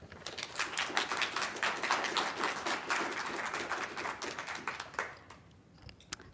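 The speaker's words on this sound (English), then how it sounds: "Let's give a warm applause to Michelle Graabek." An audience at a church history symposium claps for a speaker in a dense, steady round of applause that holds for several seconds and then thins out to a few last scattered claps.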